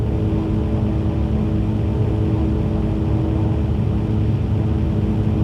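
A Cessna's engine runs at full takeoff power in a flight simulator home cockpit, a loud, steady droning rumble that holds unbroken throughout with no pauses.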